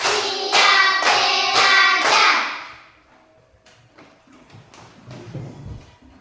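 A group of people claps five times in a steady, evenly spaced rhythm during a counted clapping exercise, loud and close, then the room falls to quiet shuffling and faint voices.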